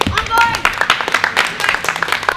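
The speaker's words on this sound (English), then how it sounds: "Everyone start clapping again." People clap together at a trampoline park, a run of sharp, uneven hand claps that is loud and close, mixed with chatter and voices.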